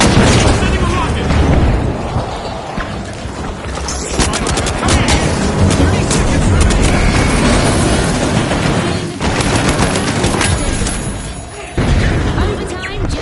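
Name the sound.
rocket explosion in the video game The Finals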